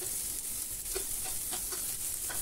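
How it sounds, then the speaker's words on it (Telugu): Chopped onions and green chilies sizzle steadily in hot oil, with a continuous bright hiss and a few soft stirring scrapes; no voices. "మనం ఆయిల్ కూడా వేడైన తర్వాత కట్ చేసుకున్న ఉల్లిపాయ ముక్కలు అలాగే పచ్చిమిరపకాయ ముక్కలు వేసుకోండి."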